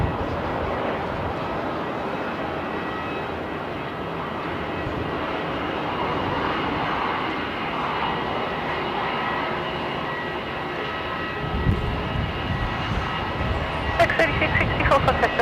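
A Fiji Airways jet departs runway 34 at Melbourne Airport with a broad, steady engine roar heard from a distance, holding level throughout and building slightly near the end.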